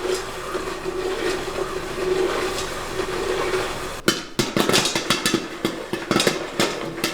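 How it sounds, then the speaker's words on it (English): Popcorn kernels pop in a pot on the stove, sharp irregular cracks bursting out loud and close after a steady hiss of heating, coming faster toward the end. "Now you can hear it popping."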